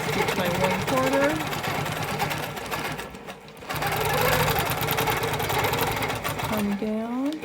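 A sewing machine stitches a quilting line along a ruler on a wholecloth quilt, a steady rapid mechanical hum running in two bursts with a brief pause between, while a voice talks over it.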